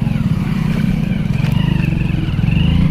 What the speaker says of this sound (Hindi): शुक्र है निकल गई बाइक यहाँ से